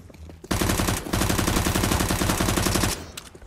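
AK rifle gunfire in the video game CS:GO, a loud rapid automatic burst with a brief pause near one second before firing resumes steadily, close and alone without talk.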